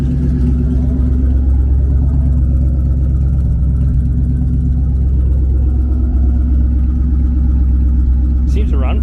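A car engine with stock headers runs steadily with an exhaust leak, a loud continuous low rumble throughout, with a brief higher sound near the end.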